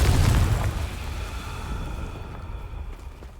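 A fiery Confringo spell blast in the video game Hogwarts Legacy, a single loud boom at the start that rolls off into a fading rumble, with no talking.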